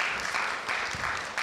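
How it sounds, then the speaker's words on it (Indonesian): Church congregation clapping during a sermon at an Indonesian service, a sustained, even wash of many hands at moderate loudness, unbroken with no talk over it. "Berikan tepuk tangan saudara buat Tuhan."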